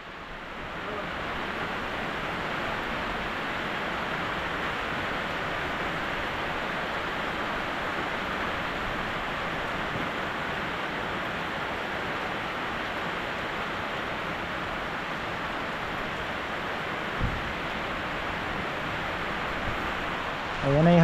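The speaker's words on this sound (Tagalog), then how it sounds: "Ayan na ang ulan." Heavy monsoon rain pours steadily, a dense, even hiss that holds unbroken for the whole stretch, with a faint thump near the end.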